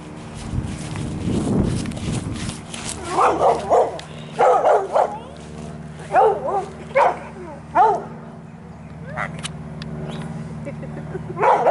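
Several dogs bark in repeated bursts at moderate distance, with a low rumble of traffic or an engine underneath and a person speaking briefly.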